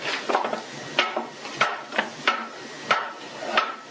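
A wooden toy rocker rocking, giving a series of sharp knocks and clacks at an irregular, rocking rhythm, close and moderately loud, with no one talking.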